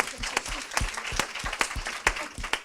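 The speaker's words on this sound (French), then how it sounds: "Il faut l'applaudir, effectivement." An audience at a presentation event claps in brief applause, scattered distinct hand claps over a soft murmur, fairly quiet and short.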